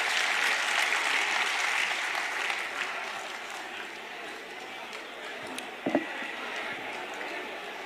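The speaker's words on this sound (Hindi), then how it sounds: "तालियों से स्वागत करो उदय भान जी" A crowd at a political rally in Haryana claps to welcome a speaker, a broad sustained round of applause that gradually thins, with a few louder bumps and faint voices near the end.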